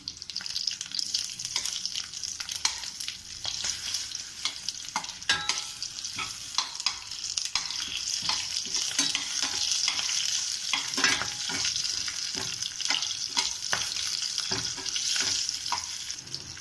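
Four green chillies fry in a pan for potato masala, a continuous bright sizzle broken by frequent spoon scrapes and stirring knocks, close and fairly loud throughout.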